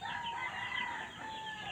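Chickens cluck and chatter at moderate distance in a newly cleared rural yard, a short steady burst of overlapping calls with no talking.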